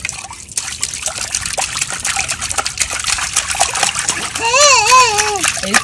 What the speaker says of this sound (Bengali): দেখি জলটা ছপক ছপক করে দাও